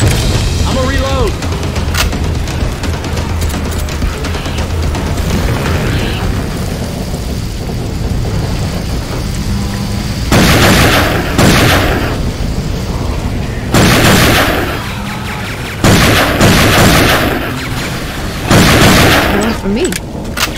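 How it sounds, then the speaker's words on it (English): Pipe bomb blasts go off in Left 4 Dead 2 zombie-shooter gameplay, loud booming bursts recurring several times over a constant roar of rain-like game noise and chaotic action. "Throwing a pipe bomb!"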